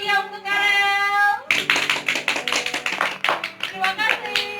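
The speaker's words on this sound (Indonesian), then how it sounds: "Beri tepuk tangan yang meriah untuk Karel." A tonal voice or music ends, then a classroom breaks into brisk, uneven hand clapping after a student's song, with tonal sound still faintly running underneath.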